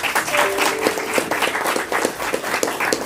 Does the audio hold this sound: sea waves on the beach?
no